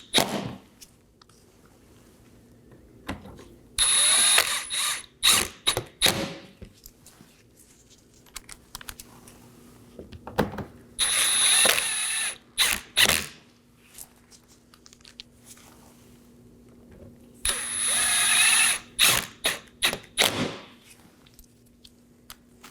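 A ratchet snugging down bolts on a 2018-2024 Chevrolet Equinox horn assembly: three separate runs of quick, close clicking, each a few seconds long, with sharper knocks between them in a quiet workspace.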